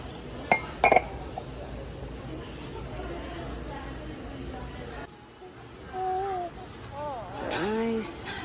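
Glass bottles clink sharply twice near the start while being handled in a shop, followed by store background noise and people talking at a distance.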